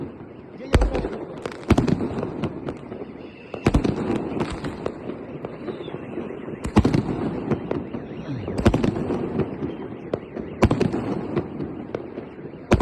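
Powerful New Year fireworks salute bursting repeatedly, loud sharp bangs every second or two with crackling and rumbling between them, close by, with faint voices in the background.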